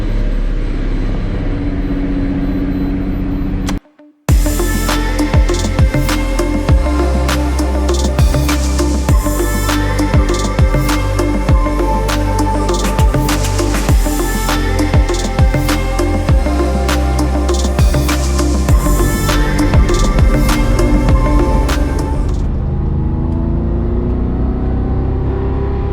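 An all-wheel-drive Lamborghini Diablo VT 6.0 roars loudly and close up after a brief cut near the start, its engine note climbing and dropping through repeated shifts for about eighteen seconds before falling away.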